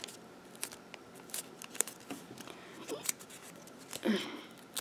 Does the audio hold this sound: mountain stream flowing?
no